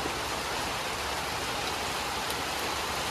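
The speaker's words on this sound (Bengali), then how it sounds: "এই যে আবার শুরু হয়েছে আজকে বৃষ্টি" Rain falls outside over rural farmland in Bangladesh, a dense, even hiss of steady rainfall that holds at one level throughout, fairly loud and unbroken, with no one speaking.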